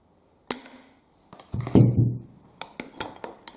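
A hammer taps and strikes a glass flask holding a Haraella retrocalla orchid, giving sharp isolated clinks followed by a heavier crack and a run of smaller clinking hits, close and fairly quiet.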